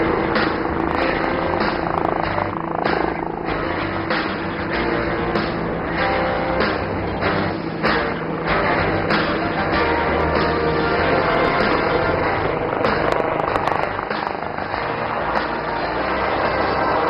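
An Indian-built LUH light utility helicopter flying an aerial display at the Aero India 2025 air show, a steady loud rotor and turbine roar throughout with no pause.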